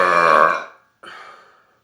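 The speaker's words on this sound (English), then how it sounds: "my ego needs another 125 plus burp" Two loud, close burps after drinking Coke Zero: a long, rumbling belch followed by a short pause and then a shorter second belch, with no other sound.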